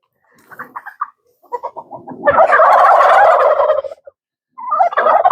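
Loud agitated squawking and clucking from several birds, with bursts of choppy calls building into a dense, frantic racket.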